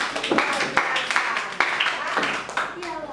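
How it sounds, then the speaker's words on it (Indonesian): Children in a classroom clap their hands in a few quick bursts of claps, fairly close and moderately loud, mixed with voices. "Tepuk tangan dulu yuk"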